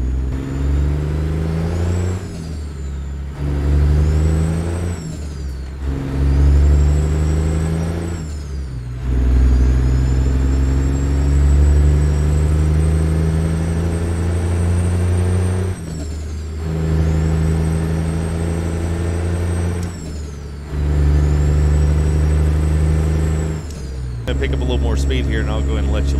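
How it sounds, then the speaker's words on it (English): A Detroit Diesel 60 Series truck engine in a video game sound mod revs up repeatedly through the gears, with a loud low drone and exhaust flutter between shifts and a hiss at the end. "I'll let you hear that exhaust flutter"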